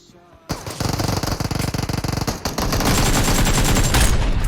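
Rapid automatic gunfire bursts in PUBG Mobile, a fast rattling volley lasting about two seconds followed by continued loud, dense shooting noise, close and dominant.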